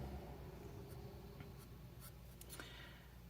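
HB pencil sketching on paper, roughly drawing a leaf: soft, light scratchy strokes in short bursts over a steady low background hum, close and quiet.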